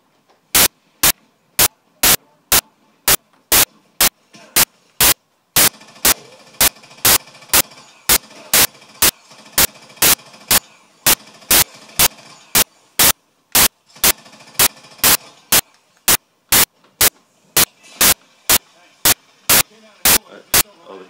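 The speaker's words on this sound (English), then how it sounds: "I just picked up something called the crawl, which is one of the enemy's weapons, so let's see how much damage this thing does to them." An alien enemy weapon called the crawl fires in a Battleship console shooter game, sharp evenly spaced shots pounding out in a steady rhythm over a low background hum, loud and close.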